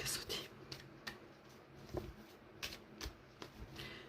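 A deck of oracle cards is shuffled close by in repeated riffling bursts and soft slaps, fairly quiet, with a few light taps between them.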